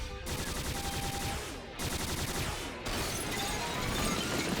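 Dense, rapid gunfire and blasts roar nonstop through a spaceship battle in an animated science-fiction series, loud and close, with brief dips between volleys.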